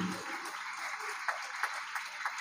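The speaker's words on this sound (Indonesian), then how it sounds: "Tepuk tangan." A small audience at an evening religious school event claps briefly and faintly, a thin scatter of hand claps following a short spoken remark at the start.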